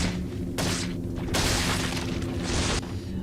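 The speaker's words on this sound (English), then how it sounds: "I'm just gonna use the flash grenade since I'm out of sniper bullets" A flash grenade going off in Resident Evil 4, a loud blast with harsh bright bursts of noise over a rumbling low boom, several surges within a few seconds, without speech.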